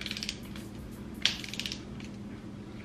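A torque wrench tightens camshaft bolts on an engine being rebuilt, giving one sharp metallic click in the middle of soft scattered mechanical ticks and faint ratcheting, close by with no talking.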